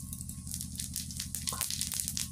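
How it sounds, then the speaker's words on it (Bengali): Whole cumin seeds crackle and sizzle in hot oil as tempering for a curry, a faint, steady frying hiss with scattered small pops close by, no talking. "এই যে এবারে দিয়ে দিব ফোড়ন হিসেবে গোটা জিরে।"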